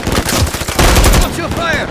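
Rapid bursts of SVA-545 assault rifle fire in a Call of Duty MW3 Team Deathmatch match on the Invasion map, loud and close, with dense overlapping cracks that swell midway through the two seconds.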